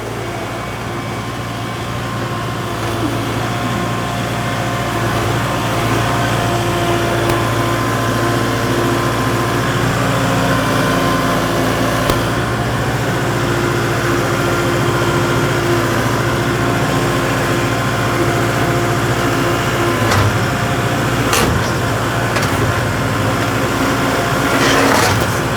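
A tractor with lightweight pallet forks runs steadily at close range while straining to lift a heavy load of thousands of pounds, its low, continuous engine drone holding at an even level throughout, with a few brief clanks and no talking.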